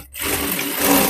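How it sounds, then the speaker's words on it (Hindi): A sewing machine runs a short, loud burst while double stitching a seam on a katori blouse, a fast whirring that starts after a brief pause and continues steadily to the end. "तो मैं यहाँ पे डबल सिलाई लगा रही हूँ"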